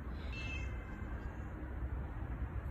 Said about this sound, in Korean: 고양이가 얘기를 하네요.